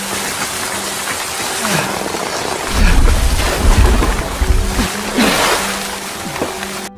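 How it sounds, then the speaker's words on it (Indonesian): Heavy rain pours steadily with a broad hiss, and deep rumbles of thunder roll in loudly around the middle before fading back into the downpour. "Di tengah derasnya hujan, Brown hampir terpleset."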